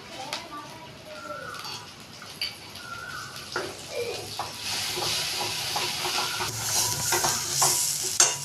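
Oil sizzles and hisses in a pan while a pointed gourd dish cooks, a steady frying sound with stirring and scraping that grows louder toward the end, while a person talks over it.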